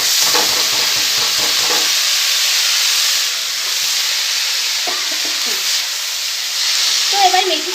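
Fenugreek leaves (methi shak) hit a pan of frying lentils, setting off a steady, hissing sizzle with bursts of crackle and stirring near the start and middle, close and moderately loud with no talking.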